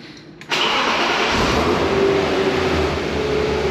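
A BMW E36 325i engine fitted with a stainless steel exhaust manifold cranks and fires, then settles into a loud, steady running drone, close by, with no talk.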